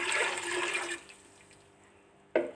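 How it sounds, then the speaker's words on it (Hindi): Water gushes into a pressure cooker for about a second, then stops, leaving quiet room tone before a brief clatter at the end. "अब एक जाके इसमें हम पानी डाल देंगे।"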